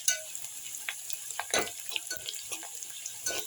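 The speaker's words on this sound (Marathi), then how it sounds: "लसूण सुद्धा व्यवस्थित तो तेलामध्ये परतून घ्यायचा" Garlic and onion sautéing in oil for a drumstick curry give a soft, close sizzle with scattered crackles and a couple of stirring scrapes, fairly quiet throughout.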